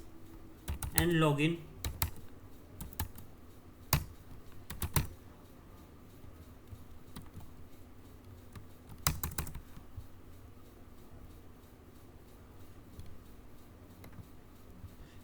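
Keys clatter on a computer keyboard as a router password is entered, scattered bursts of clicks and a few sharper taps, with someone speaking briefly at the start.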